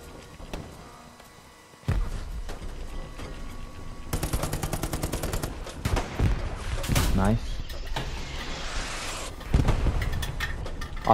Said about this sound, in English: Artillery is trying to hit us.